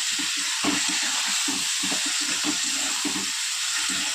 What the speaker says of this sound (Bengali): সামান্য জল দিয়েছি দেখতে পাচ্ছেন এই একটু কোনো জল দেওয়ার সঙ্গে সঙ্গে শুকিয়ে গেছে